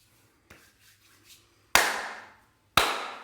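Two sharp, loud hand claps about a second apart, each ringing off briefly, preceded by a few faint taps in a quiet room.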